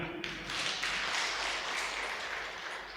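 A church congregation at a Sunday morning service at HKBP Depok applauding, a soft, even wash of clapping heard at a distance for a few seconds.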